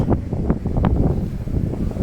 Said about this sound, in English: it is so windy today, it's ridiculous